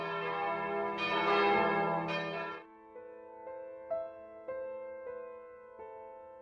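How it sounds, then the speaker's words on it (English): A church bell tolls several times at a slow, steady pace, each ring leaving a long humming decay, following a brighter, louder burst of ringing at the start. "when they heard the bell toll for poor Cock Robin"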